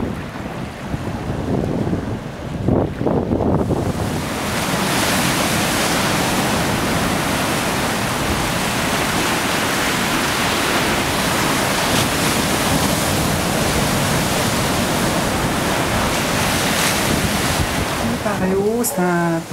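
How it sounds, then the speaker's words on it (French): Sea waves break on a shore in a loud, continuous wash of surf that fills the whole stretch, with wind buffeting the microphone and a brief brighter sound at the very end. "Je pense que vous l'entendez, cette mer et ces vagues"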